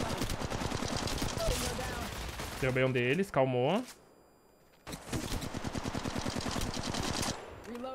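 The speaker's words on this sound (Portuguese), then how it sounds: "Agora eu tô tomando tiro." Rapid bursts of automatic gunfire in Apex Legends Mobile crackle almost continuously, broken by a short pause, with a voice speaking briefly in the middle.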